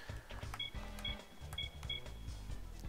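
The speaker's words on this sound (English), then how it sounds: "That is the sound of cash." Cash register chime from Gran Turismo 2 racing game, a bright ringing ka-ching heard several times as short tonal dings over a continuous low game soundtrack.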